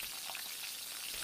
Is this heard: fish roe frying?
yes